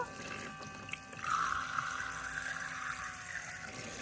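Water runs steadily from a toy kitchen sink faucet while fruit and vegetables are rinsed, a close continuous trickle and splash that starts a moment in and keeps flowing.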